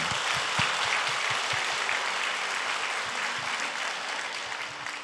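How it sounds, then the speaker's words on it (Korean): Steady applause from a church congregation, many hands clapping continuously at an even level, filling the room for several seconds. "하나님께 영광의 박수를 한번 올려드렸으면 좋겠습니다"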